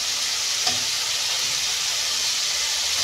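Potatoes hit hot oil in a pan of spiced fish curry base, a loud steady sizzle and hiss filling the space up close, with a faint stir knock near the start and no talk.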